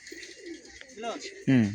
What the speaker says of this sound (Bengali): বিভিন্ন রকমের পায়রা আছে এখানে